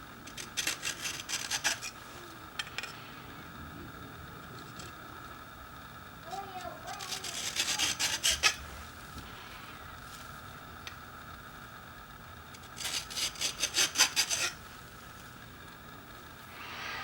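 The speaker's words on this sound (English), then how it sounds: "Square the file up on the front of the face of the slide" A metal file rasps across the face of a pistol slide in three bursts of quick back-and-forth strokes, close and distinct, separated by quieter stretches with a faint hum.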